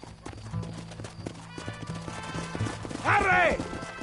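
Horses gallop in a video game, a steady clip-clop of hooves over a low rumble, with game voices and a loud neigh near the end.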